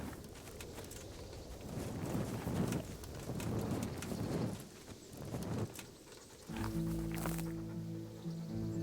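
Horse hooves in Kingdom Come: Deliverance clop rhythmically at a moderate distance over a rumbling, rain-like ambience for several seconds, then give way to a sustained tonal game sound near the end, with no clear speech.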